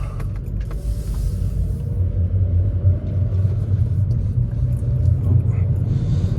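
A 2007 Mazda 3 SGT with a five-speed manual gearbox drives along, its engine giving a steady, loud low rumble with road noise heard from inside the car; no talking.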